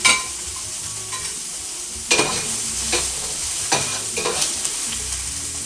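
Onions and peppers frying in oil in a pan, making a steady, moderately loud sizzle, with a few sharp scraping stirs and clatters of a utensil against the pan at intervals.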